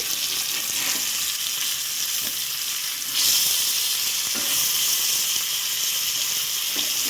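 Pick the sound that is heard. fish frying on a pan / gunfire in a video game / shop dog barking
fish frying on a pan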